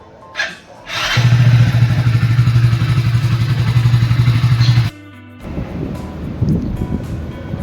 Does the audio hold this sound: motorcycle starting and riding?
yes